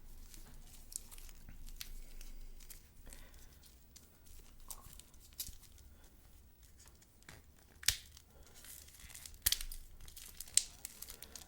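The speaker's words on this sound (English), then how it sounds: "Just gonna unwrap it. Listen to the sounds. I'm just gonna unwrap it." Plastic wrapping crinkles and rustles as a Nodus Sector Glacial watch is unwrapped. The quiet, close crackles are irregular, with a few sharper crinkles near the end.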